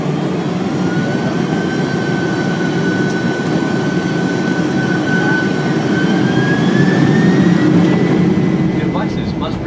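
Steady, loud jet engine roar and broadband cabin rumble fill an airliner cabin during descent before landing, with a faint whine slowly rising in pitch.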